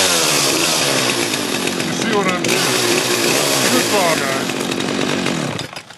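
A Poulan Pro two-stroke chainsaw engine running loud and close, a buzzing whine that wavers in pitch for several seconds before cutting off at the end, with a voice talking over it.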